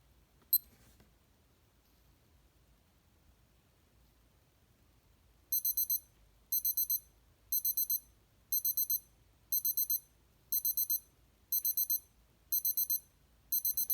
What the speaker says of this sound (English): let's do the countdown timer again